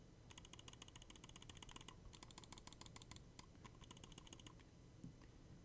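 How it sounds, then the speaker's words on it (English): Crisp, rapid bursts of mouse button clicks from a Delux M800 budget gaming mouse, clicked in quick runs with short pauses between groups, close and dry. "So I'll start with the Deluxe clicks."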